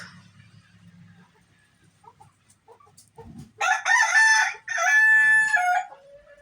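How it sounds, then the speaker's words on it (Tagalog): Ducks out in steady rain give a few loud, close, harmonic calls in two bursts after a quieter start with soft low sounds. "Ang mga duck na giginaw ang mga duck guys kasi walang tigil ang ulan"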